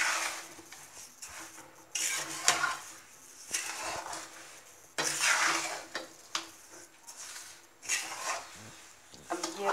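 Coconut laddu mixture with cardamom powder being stirred in a pan, giving repeated scraping and clinking strokes of a spoon against the metal in irregular bursts, close and fairly loud, with no talk.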